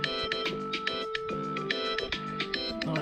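A phone alarm ringtone plays loud and close, a bright repeating melodic pattern of electronic tones cycling steadily with no voices over it.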